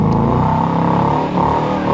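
A car engine roars loudly close by as the vehicle revs and speeds down a residential street, a sustained throaty growl with shifting pitch throughout.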